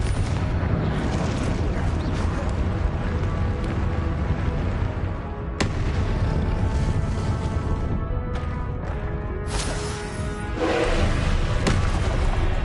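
Spell blasts in the video game Hogwarts Legacy, including Confringo and Glacius casts, produce dense, loud booming bursts and thuds layered over a constant roar of game effects, one sharp impact standing out midway.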